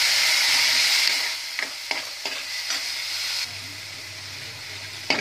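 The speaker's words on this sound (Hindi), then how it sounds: "चलिए इसमें एक मिर्ची ऐड कर देते हैं। अच्छी तरह से भून लेंगे।" Chili and dal fry in a hot tadka with a constant sizzling hiss, broken by several sharp stirring scrapes and clinks of a spoon against the pan, heard up close.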